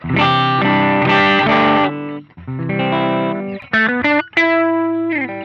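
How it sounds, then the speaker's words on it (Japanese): Distorted electric guitar played through overdrive and fuzz presets on a ZOOM MS-50G MultiStomp multi-effects pedal, including RC booster, Tone Bender and TS-style tones, loud sustained chords and notes in several short phrases with brief pauses. "せっかくこの 50G なので、なんか歪み系をちょっと見ていきたいと思います。"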